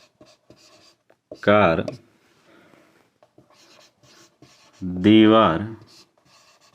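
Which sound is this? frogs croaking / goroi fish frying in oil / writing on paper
writing on paper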